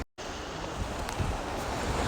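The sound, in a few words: strong ocean waves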